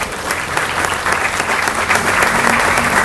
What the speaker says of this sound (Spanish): quiero que le demos un fuerte aplauso